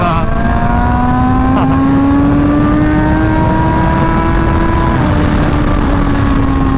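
A Honda CBR Fireblade running with a check engine light, its engine droning loud and close while riding, pitch climbing slowly then dipping with a gear change near the end, steady wind rush underneath and a rider's voice at times.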